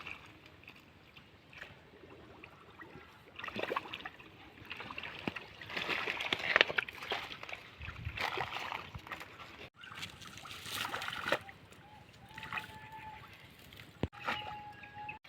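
Water sloshes, trickles and splashes in a shallow village canal as it is bailed out to catch fish behind a mud dam, with intermittent scoops and pours close by, irregular in rhythm, and no talking.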